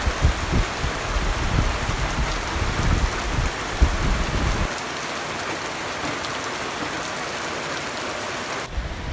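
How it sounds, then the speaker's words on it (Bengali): Heavy afternoon rain pouring down in Khoksa, a loud, constant hiss of drops close by; the deeper rumble under it drops away about halfway, leaving a lighter, steady patter, with no talking. "দেখেন কি বৃষ্টি।"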